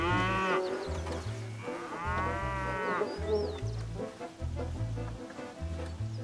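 Cattle on a farm, several cows mooing in long, loud, drawn-out calls one after another, with scattered bird chirps and rustling around them outdoors.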